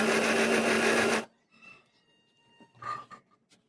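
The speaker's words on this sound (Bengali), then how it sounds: "আবারও ঢাকনা দিয়ে খুব ভালো করে 1 মিনিটের মতো ব্লেন্ড করে নিচ্ছি" Kitchen blender whirring loudly with its lid on, blending spicy mayonnaise made from poached egg and dried chillies, a steady dense roar that cuts off abruptly after about a second, leaving faint clatter and small handling noises.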